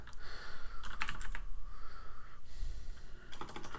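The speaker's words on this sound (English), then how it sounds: "let me just type in Apple real quick" Quick typing on a computer keyboard, a close, fairly quiet run of clicking keystrokes in uneven bursts with brief pauses, and no talking.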